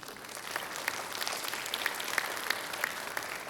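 Audience applause for the organizers at a multi-day event, a steady even wash of many hands clapping at moderate level with a few sharper claps standing out, no voices over it.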